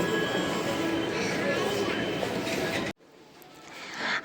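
Train noise at Howrah metro station: a loud, steady rumble of a moving metro train for about three seconds, then a sudden drop to quieter station ambience that swells again near the end.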